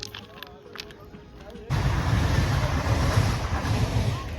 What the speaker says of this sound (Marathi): पाणी वाहतं खाडीतला.